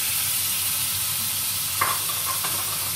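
Chicken sizzles and fries steadily in a pan with garlic ginger paste, a constant close hiss with a couple of faint clinks near the end.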